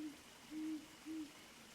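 An owl hoots softly three times, short calls with brief pauses between them, distant and faint against a quiet hiss.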